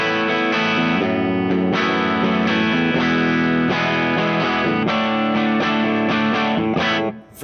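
Electric parts-guitar with a full humbucker pickup through a clean, Dumble-style amp tone, loud dense chords strummed continuously and close, with no talking.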